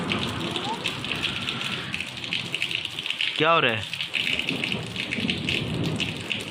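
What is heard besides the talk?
heavy rain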